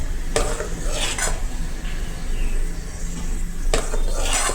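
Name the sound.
whisking gram flour (besan) batter for boondi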